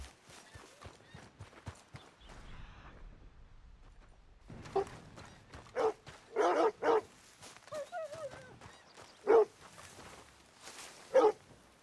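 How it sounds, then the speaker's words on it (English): A Labrador Retriever in Red Dead Redemption 2 barks and whimpers in several short, sharp bursts close by after a quieter opening, with faint background game sounds. "Oh, that's a Labrador Retriever."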